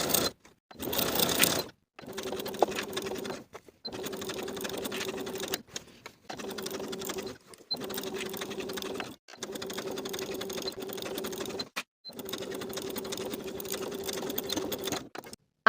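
A sewing machine sews a coat sleeve seam in repeated loud, even runs of a few seconds each, separated by short silent pauses, with one rougher burst at the start.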